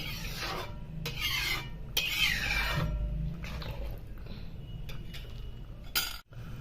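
A ladle stirring and scraping through green peas curry in a metal pot, rhythmic rasping strokes with soft wet clinks, close and fairly quiet.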